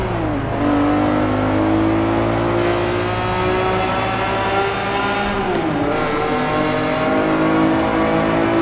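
Car engine in the racing game Forza Horizon 4 revving steadily throughout, rising and falling in pitch with gear changes, loud and close with no talking over it.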